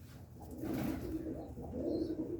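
A large Cheena pigeon coos steadily up close, a deep rolling murmur that swells and repeats, with a brief soft rustle partway through.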